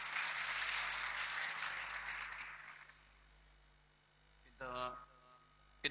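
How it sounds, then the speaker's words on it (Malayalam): Church congregation applauding to welcome a bishop at a parish feast, a broad wash of clapping that swells early and fades over a few seconds, with a brief voice near the end over a steady mains hum. "അഭിമന്യ പിതാവിനെ നമുക്ക് കൈയടിച്ച് സ്വാഗതം ചെയ്യാം"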